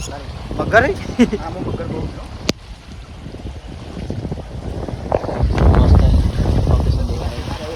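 Gusty wind with light drizzle buffets the microphone outdoors, swelling louder toward the end, with a few brief knocks and a faint voice underneath.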